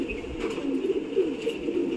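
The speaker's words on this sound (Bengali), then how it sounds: "বাইরে থেকে পায়রা এসেছে" Pigeons newly brought in from outside coo in a low, steady murmur that runs continuously for the whole stretch, at a moderate level with no one speaking.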